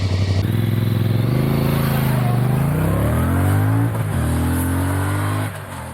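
A Voge R625 motorcycle engine rumbles loudly up close on the road, idling at roadworks lights and then revving through rising and falling pitch sweeps as it pulls away, with no talk.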